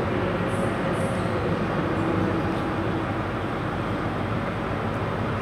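A ScotRail train rolls into Glasgow Queen Street station with a steady, loud, close rumble that holds without a break through the whole stretch, and nobody speaks over it.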